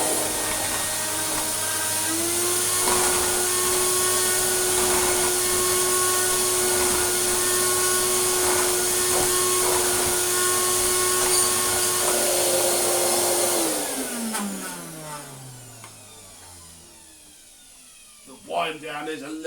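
A Vax 5140 Ultra Rapide 3-in-1 carpet cleaner motor runs with a loud, steady whine, then switches off and winds down with a falling pitch over a few seconds, followed by a brief knock.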